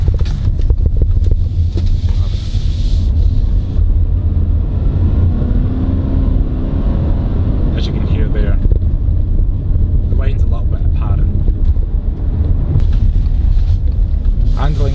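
A 2020 Subaru Forester e-Boxer hybrid with a CVT accelerating hard, heard from inside the cabin as a low, steady engine drone under heavy wind and road rush, with someone talking over it.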